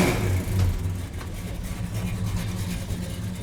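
A 1969 Plymouth Roadrunner muscle car with its 383 V8 rumbles steadily at close range, a deep throbbing idle with a slight blip of revs near the start and no voices over it.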